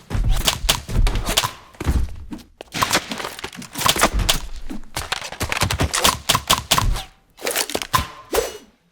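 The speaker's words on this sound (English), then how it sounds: "Then I'll mix in a pre-designed bullet sound that implies the idea of a dangerous gunshot." Layered sound effects for a Nerf-themed action scene: sharp PVC whooshes mixed with designed bullet gunshot hits, a rapid series of loud thunks, cracks and swishes in bursts separated by short gaps, with no talking.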